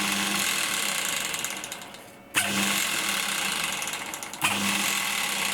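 Small metal lathe running steadily while machining model front wheels, a continuous whirring mechanical hum with ratcheting texture, briefly dipping and restarting twice.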